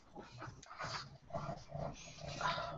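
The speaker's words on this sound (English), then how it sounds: "Gonna go and let the dog out, Hal." A dog whimpering indoors during a tabletop game session, a run of soft, high, whiny cries and breathy sounds close by, continuing for a few seconds without talk.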